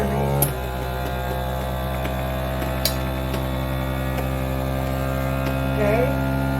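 A FoodSaver vacuum sealer in accessory suction mode starts with a click and then holds a steady, droning motor hum as it pumps air out of a bag, with a couple of faint taps.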